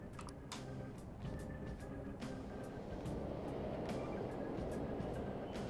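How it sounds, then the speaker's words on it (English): Steady low rumble of a subway train running in a video game, with clacks and metallic squeals over continuous rail noise, fairly close and sustained throughout. "The trains are totally running."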